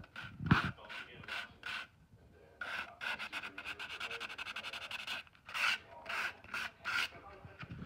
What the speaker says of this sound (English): we're just going to kind of sand that a little to get rid of it.